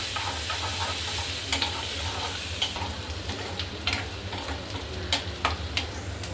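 Onion frying in a pan for a wild vegetable bhaji of taklyachi greens, giving a continuous close sizzle broken by light scrapes and taps of stirring, with no voices.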